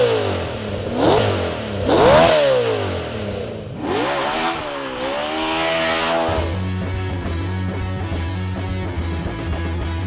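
Race-car style V8 revving hard in an RCR Superlite Coupe, a 388-cubic-inch destroked LS7 making 605 peak horsepower: loud rising and falling throttle blips, then a steady throbbing idle close by.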